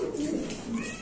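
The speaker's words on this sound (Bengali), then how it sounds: "কালো ডেনিশ কবুতর, একদম পাকিস্তানি ব্রিড" Black Danish pigeons of a Pakistani breed at a pigeon farm loft give a single short, soft, throaty coo, close by and brief, with no speech over it.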